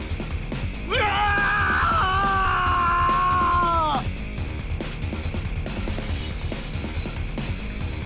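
In an audio drama, a man lets out a single loud, sustained scream of pain lasting about three seconds over a low background rumble.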